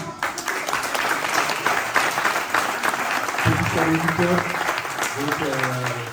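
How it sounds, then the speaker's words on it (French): Audience applause at a judo and jujitsu school's end-of-year show, dense steady clapping throughout with voices talking over it partway. "vous pouvez encore les applaudir"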